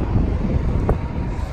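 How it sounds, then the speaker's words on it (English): Strong wind buffets a microphone outdoors beside a hotshot truck, a steady loud rumbling roar with gusty swells and no voice heard. "It's really windy"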